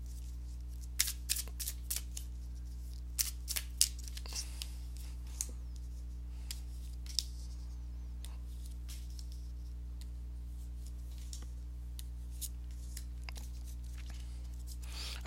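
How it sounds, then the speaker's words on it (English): Tarot cards shuffled by hand in scattered bursts of soft flicks and riffles, fairly quiet over a steady low electrical hum, with long pauses between bursts. "let me go ahead and give these cards a shuffle"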